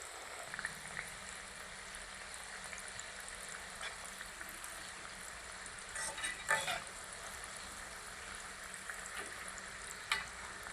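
Chakli, a crisp spiral snack, frying in oil in a pan on low heat, giving a steady soft sizzle and bubbling with small crackles, no voices.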